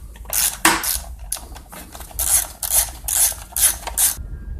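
Ratchet fitted with a 5/16 socket removing the carburetor from a Poulan P3314 chainsaw, giving short bursts of bright metallic clicking in quick uneven strokes, close and fairly loud.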